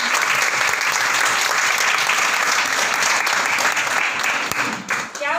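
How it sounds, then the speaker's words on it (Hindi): A room of attendees at an education meeting breaks into loud, sustained applause, a dense, even roar of clapping that dips and fades in the final moment. "आज जितने भी पर्सन्स यहाँ पर बैठे हैं इन सब के लिए जोरदार तालियां"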